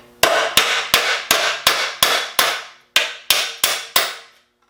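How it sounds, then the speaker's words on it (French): A hammer strikes sheet metal beside a weld ten times in a brisk, even rhythm. Each blow is a loud, close, sharp ringing hit, with a short pause before the last four. "Je vais frapper vis-à-vis la soudure."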